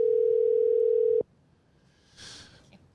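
A steady telephone dial tone holds for about a second while calling a guest, then cuts off abruptly, followed by near-silence and a soft brief rustle.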